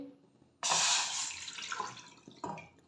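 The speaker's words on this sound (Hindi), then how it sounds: "इसके अंदर मैं ऐड कर दूँगी 2 कप पानी के।" Two cups of water are poured into a cooking pot for joshanda, a splashing burst that starts abruptly, holds steady, tapers off, then gives a short second splash near the end.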